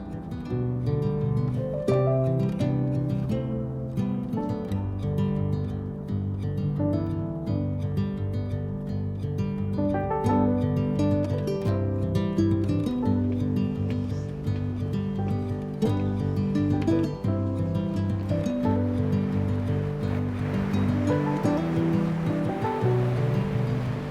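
Ocean waves roll onto a rocky South Korean coastline beside a seaside temple, a continuous, fairly loud wash of surf with no voices.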